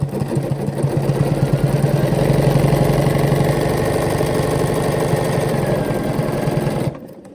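A quilting sewing machine runs steadily for about seven seconds, stitching along a drawn center line on a Westalee ruler-work quilt block. The close, even motor hum and needle chatter stop abruptly near the end, with no talk.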